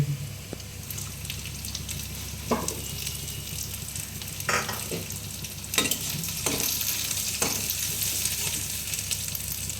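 Finely chopped garlic fries in a pan with a continuous hissing sizzle, close and moderately quiet, punctuated by several sharp stirring clatters, with no voices.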